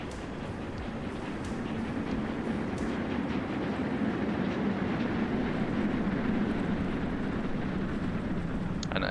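Steam locomotive trains running in a Siberia railway-building video game give a steady, moderately quiet rolling rumble with faint clattering, continuous and without speech.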